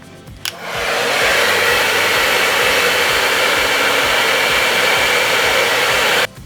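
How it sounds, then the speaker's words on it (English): A hair dryer switches on and roars steadily at close range, a loud continuous whooshing hum that runs for several seconds before cutting off. "so with the blow dryer"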